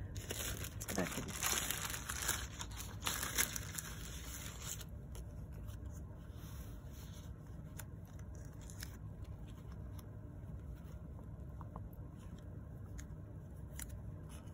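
Sticker sheets for a collage journal handled up close: crinkling, crisp rustles and snips, busy and dense for the first five seconds, then quieter, sparse handling with soft taps against steady background noise.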